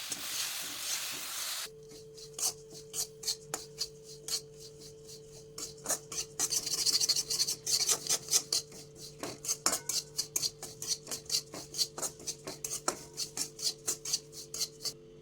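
Sesame seeds dry-roasting in a pan, stirred steadily so that a continuous scraping and rasping comes through with rhythmic clinks of a utensil against metal, close and clear with no talk.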